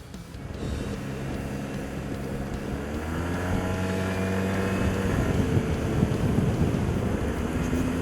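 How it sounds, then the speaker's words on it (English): A Yamaha TMAX scooter with a 45-horsepower engine is ridden along, its engine drone rising steadily under heavy wind rush at the microphone, with no talking. "just the simple pleasure of riding a two-wheeled motorised vehicle."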